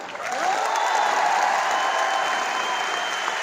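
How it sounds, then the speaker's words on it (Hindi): Steady applause from a crowd, continuous clapping at fairly even loudness that swells in quickly and holds throughout. "तालियां यार।"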